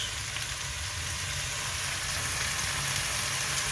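Minced meat and vegetables frying in a pan for a Turkish menemen with cheese, giving a steady, close, continuous sizzle and crackle with no talking.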